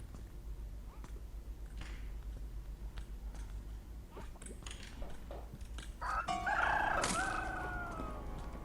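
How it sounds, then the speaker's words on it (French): Chickens in the video game Evil Nun 2 cluck and squawk, scattered clucks building to a loud burst of flapping and squawking near the end over a low steady game hum. "Elle a libéré les poulets, on l'a vu live"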